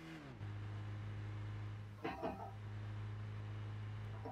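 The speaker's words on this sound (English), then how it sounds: "Shift to second gear." A Fiat's engine settles into a steady low hum after a shift into second gear in a racing game, with a brief burst of noise midway and a faint, quiet overall level.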